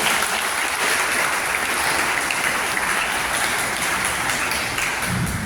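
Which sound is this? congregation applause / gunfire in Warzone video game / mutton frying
congregation applause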